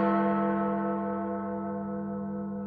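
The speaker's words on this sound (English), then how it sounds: "awakened at 1 by the bell" A single deep church bell strikes once, loud and resonant, its rich ringing tone decaying slowly with no other sounds.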